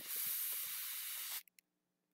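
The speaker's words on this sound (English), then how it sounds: "I've deflated the balloon, no boom." Air rushes loudly out of a snipped latex twisting balloon in a steady hiss lasting over a second, then cuts off abruptly, followed by two faint small clicks in silence.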